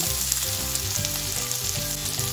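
Chopped green chili and cabbage fry in a pan for a vegetable American chop suey, giving a loud, continuous close sizzle with tuneful background music running underneath.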